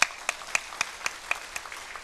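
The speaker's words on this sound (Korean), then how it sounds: "하나님께 영광의 박수를 드립니다." Church congregation clapping in a Sunday worship service: about eight sharp, evenly spaced claps in a slow unison rhythm, fairly close and moderately loud, with no voices.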